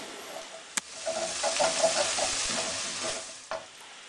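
Shanghai street-style fried rice sizzling in a pan while being stirred, with food sticking on the bottom: a steady, close hiss with scraping strokes and a couple of sharp clicks.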